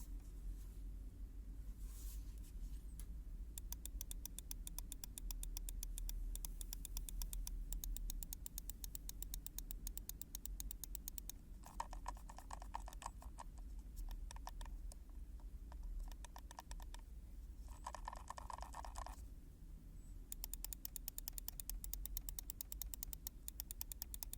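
Button clicks from a SteelSeries Sensei Ten gaming mouse, a quiet, muted click sound, come as long runs of rapid, faint clicking separated by short pauses, with some bursts sounding sharper and closer.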